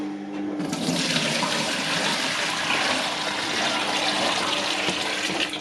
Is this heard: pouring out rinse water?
yes